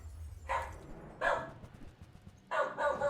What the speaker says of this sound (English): Enjoy the dog barking ASMR while it lasts